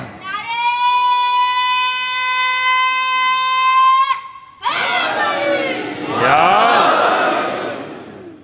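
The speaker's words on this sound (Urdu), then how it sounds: "نعرے تکبیر کا آواز کمزور تھی" At a Muharram religious gathering, one voice holds a long, loud, sustained call, then after a brief gap a large crowd roars back in unison, its massed shout swelling and lingering.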